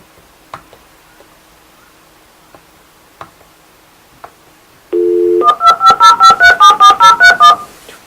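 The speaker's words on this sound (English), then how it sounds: "Joanne, could you dial Randy's number, please?" A telephone keypad dials a number: after a few faint clicks, a steady dial tone sounds, then about a dozen quick, evenly spaced DTMF beeps ring out loud and close.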